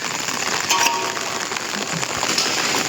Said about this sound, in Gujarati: હલકી હલકી ને વધારે વરસાદ ચાલુ થઈ ગયો ફિલહાલ.